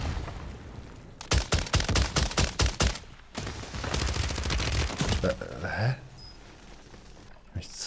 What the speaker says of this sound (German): Full zu zweit auf mich geschossen